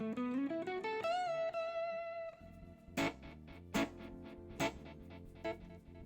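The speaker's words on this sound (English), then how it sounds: "there's a quick pentatonic run that lifts up the song as it moves into the chorus section" Quick pentatonic run from a Bob Marley song rippling upward, followed by punchy staccato chord stabs on a reggae offbeat, fairly faint and without voices.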